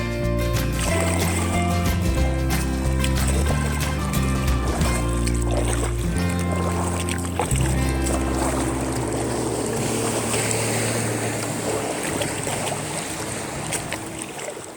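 Powerboats pass close to a kayak on Lake Keowee in South Carolina over a busy holiday weekend. A steady engine drone shifts pitch as the boats go by, then gives way to splashing wake and wind noise against the small craft.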